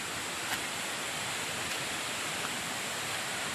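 A waterfall near a forested hillside in a village in Pathanamthitta, heard as a steady, even broadband rush of falling water with no pauses and no voices.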